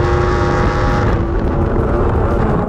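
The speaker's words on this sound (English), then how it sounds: "So now we get to the end of the straight, to the most important braking of the circuit, and we brake almost at the same time." Race motorcycle braking hard at the end of the straight at the Cremona circuit, its engine roaring loud and close as the tone shifts through the braking before cutting off abruptly.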